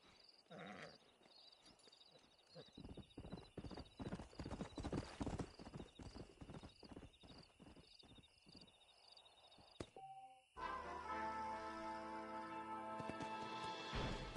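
A stallion's hooves clip-clop steadily in Red Dead Redemption, a quick run of close, crisp hoofbeats that stops abruptly before a burst of game music and effects takes over.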